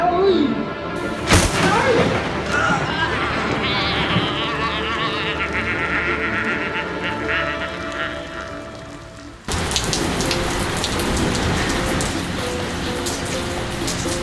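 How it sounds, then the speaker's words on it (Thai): Heavy rain pours down steadily and close, a dense, loud hiss on surfaces throughout, briefly dipping before resuming as strongly. "เฮ้ยฝนตกว่ะ"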